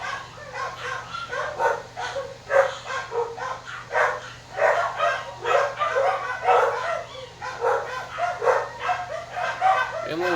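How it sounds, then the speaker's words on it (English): Dogs bark and yip repeatedly in the background while a person talks continuously over them. "I'm sorry about dogs."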